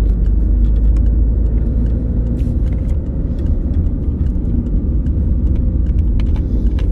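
A car accelerates during a driving lesson, its engine rumbling loudly and steadily throughout, with road noise and no talking.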